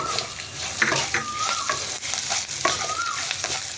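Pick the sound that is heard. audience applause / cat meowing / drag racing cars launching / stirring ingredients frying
stirring ingredients frying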